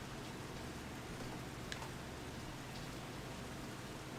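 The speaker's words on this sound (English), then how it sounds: "It's actually raining outside right now." Rain falling outside makes a soft, steady hiss of drops, faint and continuous with an occasional light tick, and no voices over it.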